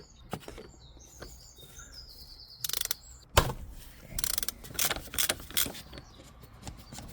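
Ratchet wrench loosening the 27 mm oil filter cap on a BMW G31, heard as close bursts of sharp clicking, several separate runs of ratcheting with brief pauses between, no one talking.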